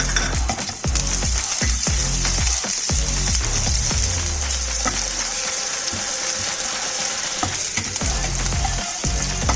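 Ginger, garlic and chili frying in hot oil, a loud close sizzle throughout, broken by repeated clattering scrapes of a spoon stirring the pan.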